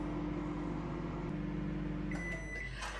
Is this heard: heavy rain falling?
no